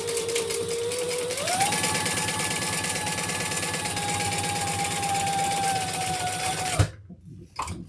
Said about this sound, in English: And we'll top stitch.